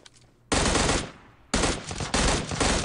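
Gunfire in the PUBG Mobile video game, three loud bursts of automatic shots, the first after a short quiet lead-in and the last two close together, with no voices.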